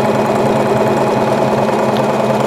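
Domestic sewing machine running steadily during free motion quilting, a continuous dense mechanical whir with a low rhythmic needle hum, close and fairly loud with no pauses.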